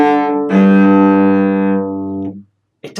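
A cello sounds one bowed eighth note from a tango, a rich sustained tone held about two seconds before fading, played solo and close with no talk.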